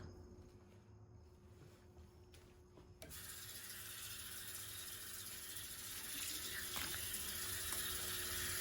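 A tap turns on after a few quiet seconds and runs steadily while a human hair HD 5x5 closure wig is shampooed, giving a soft, even rush of water that swells slightly toward the end.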